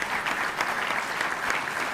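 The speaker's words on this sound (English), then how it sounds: "Give that a round of applause for public safety" An audience at a Philadelphia mayoral announcement on a new 76ers arena gives a round of applause, continuous even clapping filling the whole moment without a voice over it.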